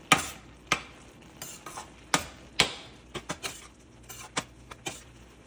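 Crumbled cheese slices stirred into a pan of Maggi noodles: a spoon scrapes and taps the pan in irregular sharp clicks over a soft, sticky mixing sound, close and clear, with no talking.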